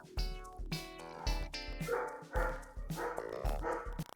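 Several dogs bark loudly and close by in quick, overlapping bursts, with a few higher yips mixed in, and barely a pause between barks.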